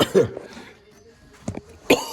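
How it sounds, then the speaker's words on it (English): A few short, muffled coughs spaced apart, fairly close, with quiet breathing and room noise between them. "sorry about the coughing"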